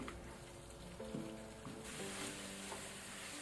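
Chicken salan masala frying uncovered on high flame, a continuous faint sizzle and crackle like light rain, steady throughout.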